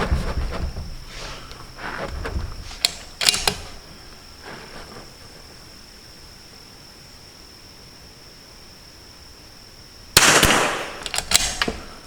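Rifle shots during basic rifle handling practice, a few sharp, loud reports in two clusters separated by a long quiet stretch, with no voices.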